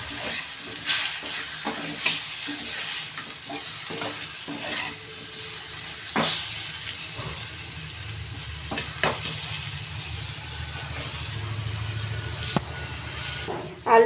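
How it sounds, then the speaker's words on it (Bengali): Potatoes seasoned with turmeric and salt fry in a pan, a steady close sizzle with occasional stirring clatters and scrapes throughout. "আমি আলুগুলো দিয়ে দিয়েছি, আর একটু হলুদ আর নুন দিয়ে দিয়েছি। এগুলো একটু ভালো করে ভেজে নেব।"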